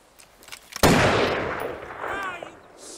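A single loud gunshot in a Grand Theft Auto V cutscene cracks suddenly after a few quiet moments, and its echo tails off over the next two seconds.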